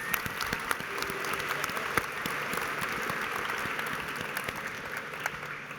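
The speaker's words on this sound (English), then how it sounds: "So let's give cheerleading a round of applause." Steady applause from an audience at a university awards ceremony for a cheerleading squad, moderately loud and even, with a few sharper individual claps standing out.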